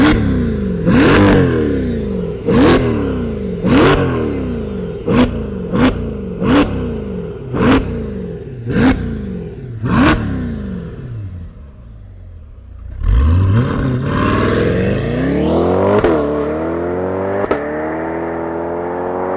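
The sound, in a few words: Chevrolet C8 Corvette E-Ray V8 engine starting and revving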